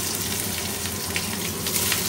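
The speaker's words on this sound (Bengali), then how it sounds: "পেঁয়াজটা জাস্ট একটু সোয়েটিং হবে" Onions frying in hot white oil with a bay leaf, giving a steady, close crackling sizzle that runs unbroken and without talk.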